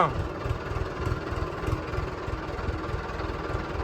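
A steady tractor engine idles with a low, rapid pulsing chug, continuous and fairly close, holding an even level throughout.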